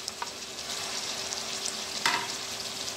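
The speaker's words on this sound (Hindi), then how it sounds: "तो इन सब मसालों को हम अच्छी तरह भून लेंगे" Chicken cooks in a pan with tomatoes, turmeric, red chilli and yoghurt, giving a continuous close hiss of frying with light scraping and one sharper clack of a spoon midway.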